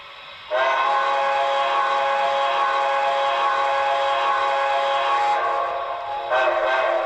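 The whistle on a model New York Central Hudson steam locomotive sounds a long, loud blast, pauses briefly, then starts a second toot, close and clear, indoors in an attic.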